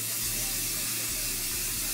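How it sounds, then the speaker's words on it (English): Hairspray from a large aerosol can hisses in a steady continuous spray for about two seconds, close and loud, with no talking. "this is the spray that I like to use"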